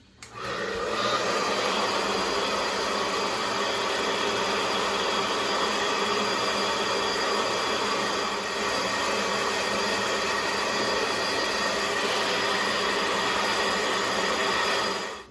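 A handheld hair dryer blows steadily on hair as it is finger-dried, a loud continuous whooshing hum that runs unbroken close to the mic for the whole stretch, with no talking.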